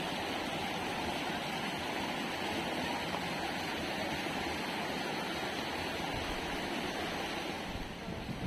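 A river stream flows beside rice terraces, a steady, loud rush of water that stays constant throughout with no voices.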